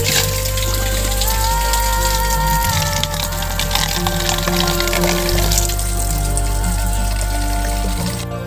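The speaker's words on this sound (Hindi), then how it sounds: "पूरा ऊपर से पानी गिरता है देखो" Water pours down from above onto rocks in a jungle in Northeast India, a loud, continuous splashing rush that holds steady throughout, with no talk.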